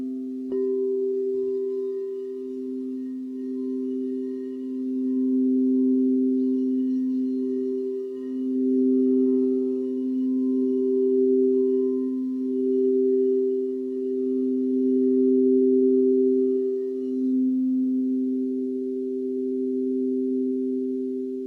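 Two steady pure healing tones ring together a perfect fifth apart, sustained and gently swelling and fading in alternation, calm and moderately quiet with no voices.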